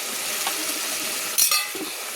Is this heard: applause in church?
no